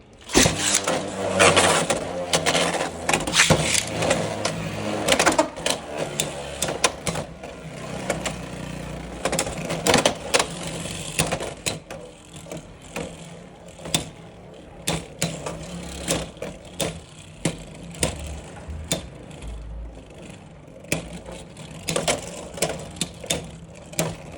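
Rapid metallic clattering and whirring of Beyblade X tops, including Impact Drake, colliding in a stadium, busy and loud at first, then thinning into scattered sharp clicks and scrapes.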